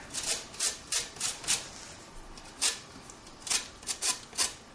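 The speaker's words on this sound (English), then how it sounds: "I'm going to zest it straight into my bowl here." Citrus peel being zested straight into a bowl, a run of short, close raspy scraping strokes in quick bursts with brief pauses between them, alone with no talking.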